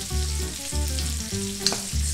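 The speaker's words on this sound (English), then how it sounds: "just get the spices warmed up in the oil. See, the hot oil just brings out the aromatics." Spices warming and frying in hot oil in a pan, a loud close crackling sizzle with rhythmic stirring or shaking pulses over a couple of seconds, no speech.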